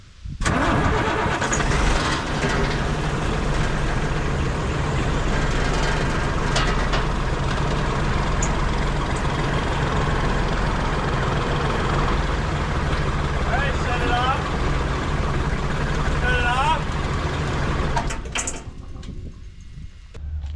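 A dump truck engine is cranked and runs with a steady, loud mid-pitched drone for most of the clip, then drops away near the end. People speak over it.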